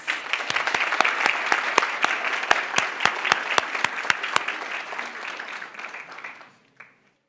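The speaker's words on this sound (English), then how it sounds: "Let's give her a huge round of applause" An audience at a college board of trustees meeting applauds an award recipient, with dense clapping marked by sharp individual claps. The applause thins gradually and stops near the end.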